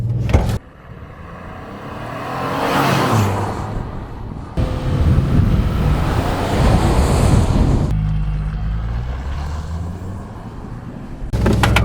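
A Ford Expedition Limited 4X4 SUV launches and accelerates hard from a standstill to 60 mph, its loud engine roar rising through gear changes under heavy wind rush.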